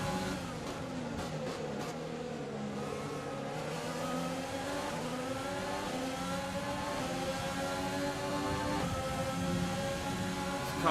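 Formula 1 car engine from the F1 2020 racing game, a loud sustained high-pitched whine with steady harmonic rises and falls as the revs climb and drop through gears, continuous throughout with no talk.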